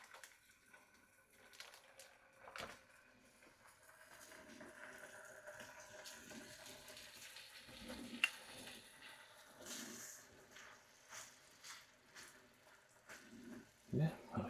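Bacon frying in a pan gives a soft, quiet sizzle with scattered light clatter, and a voice occasionally speaks nearby.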